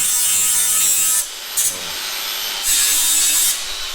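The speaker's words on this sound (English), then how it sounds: "So Trevor, the first thing I need from you is to deburr 2 of these" Metal pieces being deburred for a large wrecker build give a loud, high whirring grind in long bursts separated by brief pauses and short touches, close to the listener.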